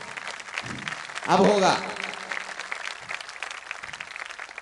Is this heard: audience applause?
yes